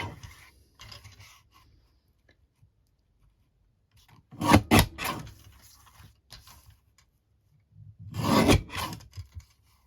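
Card stock is trimmed down in two bursts of scraping, rasping cuts, each about a second long, with faint handling noises and quiet gaps in between.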